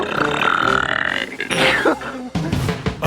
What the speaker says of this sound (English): I think I'm going to burp.